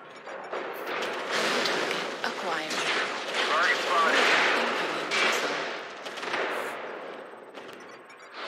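Incoming missile strike in the MechWarrior Online game, with a dense, sustained roar of rapid impacts and explosions lasting throughout, loud and close, with a synthetic voice speaking over it.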